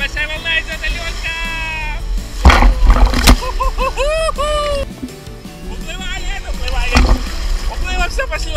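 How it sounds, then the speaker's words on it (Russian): A big sea wave rolls onto a beach and splashes in a few loud, close bursts, under almost continuous excited chatter from children and an adult. "Ой, какая большая волна идет, Алёнка!"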